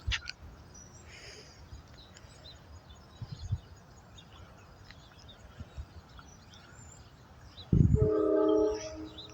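A Norfolk Southern grain freight train led by four locomotives, including an SD70M, rumbles faintly past at a distance with scattered clanks, then a loud, harmonic horn blast sounds for about a second and a half near the end.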